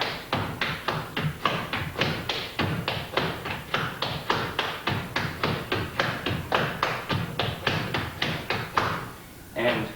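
Flatfooting slap step ending with a slap behind the body, heard as a long, rapid, steady run of close foot taps and thuds, then a brief gap and a couple of closing strikes.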